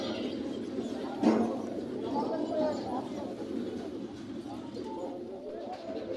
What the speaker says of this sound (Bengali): উনি দুই থেকে তিন জোড়া কবুতর আনছে আর কবুতরগুলো খুবই সুন্দর দেখতে